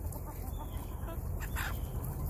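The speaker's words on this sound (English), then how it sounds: "There's old rooster making his noise," A rooster in a brushy pen with briars and brambles gives a low, throaty clucking call against steady outdoor background noise, not a full crow.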